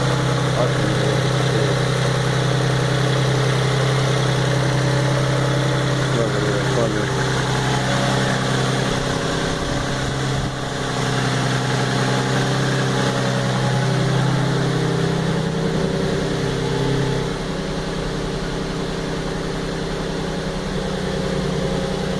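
A 2003 Infiniti G35 sedan engine idles steadily while warming up, a continuous low drone with constant hum throughout, with faint background sounds but no clear talking.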